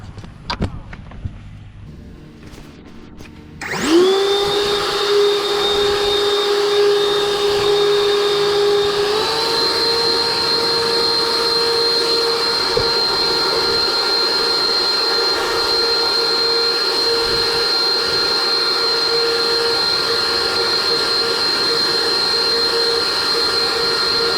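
A Kobalt 40V Max cordless leaf blower starts up after a quiet moment and runs steadily with a loud, high whine, its pitch stepping up once and then holding.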